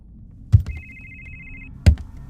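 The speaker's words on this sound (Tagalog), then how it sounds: "Hinanap ko ang pinanggagalingan ng ringtone." A cellphone ringtone sounds as a single sustained electronic tone in a small condo unit, bracketed by two dull knocks, close and fairly loud with no talking.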